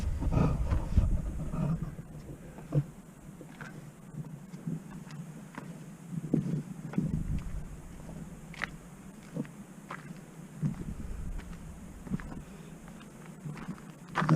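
Wind gusting outdoors at the historic Wildrose Station and charcoal kilns in Death Valley, a steady low rumbling roar with buffeting surges that rise and fall over the whole stretch, loud and close as if hitting a microphone.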